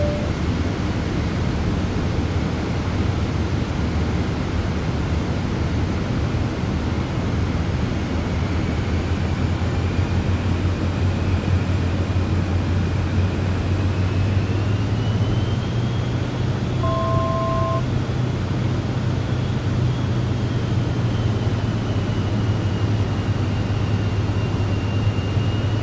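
Cirrus Vision Jet G2+ small single-engine personal jet on landing approach with gear down and full flaps, a steady loud cabin roar of engine and airflow with a slowly rising tone, constant throughout and free of talk.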